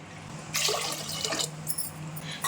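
A short pour of water splashing into a pressure cooker while making sweet pongal, a bright rushing burst lasting about a second, followed by smaller splashes and drips.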